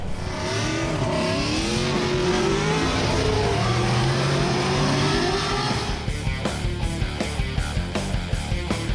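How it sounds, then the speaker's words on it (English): Drift cars sliding around a racetrack during an exhibition at a Gridlife event in Colorado, with engines revving hard and tires squealing. Partway through, the sound turns into a rhythmic string of sharp pulsing bursts. "So let's go get a few shots of some drifting."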